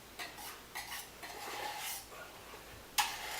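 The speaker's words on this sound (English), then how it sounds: "I'm going to mix it all together" A spoon scraping and clinking against a pot while macaroni is folded into cheese sauce, several soft scrapes followed by a sharper metallic tap, quiet and close.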